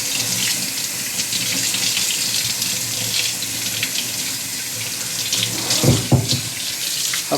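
A Moen Georgene 87912SRS kitchen sink faucet runs at full pressure, a steady close hiss of water splashing into the sink, with a few brief splashier bursts and no talking.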